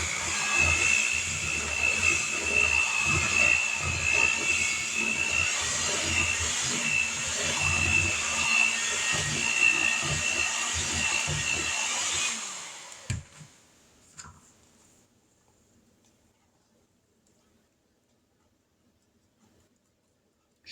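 An electric hand mixer whirs loudly and steadily through oatmeal cookie batter, then shuts off, leaving near silence with a few faint clinks.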